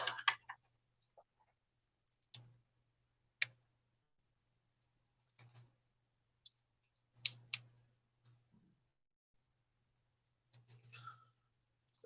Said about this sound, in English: I am going to trim this a little more.